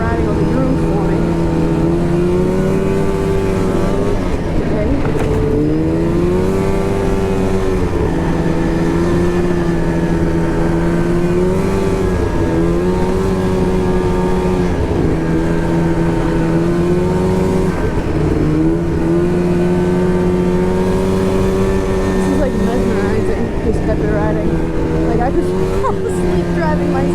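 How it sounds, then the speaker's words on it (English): A snowmobile cruising along a groomed trail, its engine droning loud and close throughout with gentle pitch rises and dips as the throttle shifts, steady without pause. "Driving my sled like this because it's so nice."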